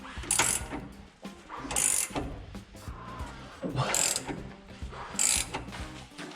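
A ratchet wrench turns a bolt to raise a truck's ride height, making close, crisp clicking in four short bursts separated by brief pauses.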